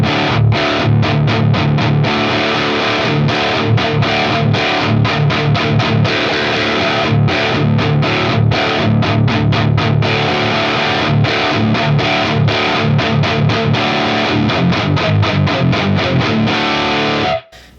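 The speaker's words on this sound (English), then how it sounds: "use to saturate it and get even more distortion out of the tone" A heavily distorted electric guitar through a Friedman IR-J plays loud, chugging high-gain riffs with tight palm-muted bursts, continuous and alone until it cuts off at the end.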